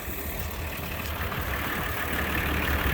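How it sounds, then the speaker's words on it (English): An old tractor used for running equipment idles close by, giving a steady low, rough engine rumble that holds evenly throughout with no talk over it. "it's the tractor that I learned how to run equipment with"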